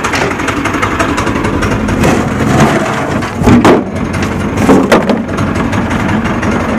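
Predator 6.5 hp small engine repowering a Kawasaki KAF450 Mule runs steadily at a loud, rough idle with a constant mechanical drone, rising slightly in a couple of brief revs.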